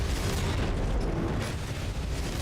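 Heavy, sustained roaring blasts from explosions in the action game AI Limit, a loud unbroken wall of booming low rumble with crackling texture on top and no talking.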